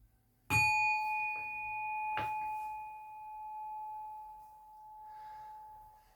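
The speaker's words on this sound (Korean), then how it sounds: "바로 이 금방 제가 때렸던 종소리입니다" A bell struck by hand rings out twice, a sharp strike followed by a second hit, leaving a clear sustained metallic tone that hums on slowly decaying, quiet and without talk.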